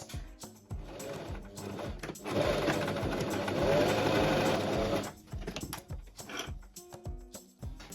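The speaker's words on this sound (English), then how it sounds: "then we're gonna sew along here with a seam allowance of 1 centimeter" A sewing machine runs a 1 cm seam allowance along a contrast-trim summer dress, a steady mechanical whir that rises into a louder, faster run of stitching midway before easing back to intermittent stitches.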